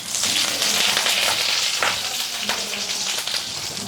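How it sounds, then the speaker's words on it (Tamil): Curry leaves crackle and sizzle in hot ghee with beetroot, a close, steady loud frying hiss with sharp pops, heard alone without talk. "இப்போ இதில் கருவேப்பிலை போட்டுக்கலாம்."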